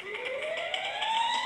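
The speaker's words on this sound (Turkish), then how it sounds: "Alarm çalıyor." Rising electronic alarm siren in a video game, a steady wailing tone climbing in pitch, loud and continuous with no talk over it.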